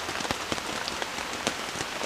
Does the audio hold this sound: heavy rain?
yes